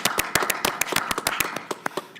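Summer graduates are applauded at a school board of education meeting, with a small group's scattered, fairly close hand claps tapping out a quick uneven rhythm throughout.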